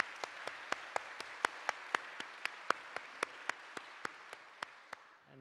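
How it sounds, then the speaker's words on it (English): An audience at a university public lecture gives a round of applause, a steady run of crisp, evenly spaced claps over a soft wash that stops after about five seconds. "So perhaps a small round of applause for the Dean and the Vice-Chancellor."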